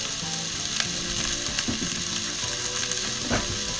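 Onions browning in a tablespoon of butter in a pan, a continuous close sizzle with faint stirring clicks over it.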